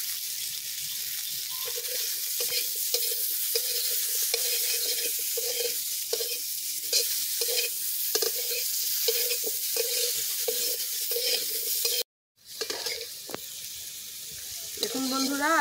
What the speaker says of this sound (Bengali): দেখুন বন্ধুরা আলুগুলো ভাজা হয়ে গিয়েছে লাল লাল করে